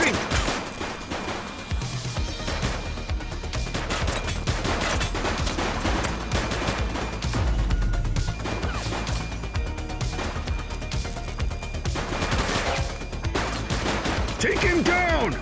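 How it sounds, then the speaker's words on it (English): A suspect opens fire in The Precinct police game, with rapid bursts of gunfire, crashes and impacts continuing loudly for about fifteen seconds under shouted voices. "He's shooting!"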